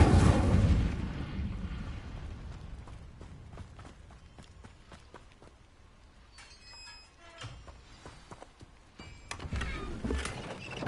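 A fire spell cast in a Harry Potter video game: a loud whooshing burst at the start that quickly dies away into quieter game effects and scattered clicks.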